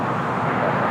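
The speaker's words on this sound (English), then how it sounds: "Next takeoff here on the south side. Delta Airlines flight 541 heading to Atlanta." Delta Airlines Airbus A321 taking off from the south side at LAX, bound for Atlanta, heard as a steady, broad jet roar that holds at an even loudness without pause.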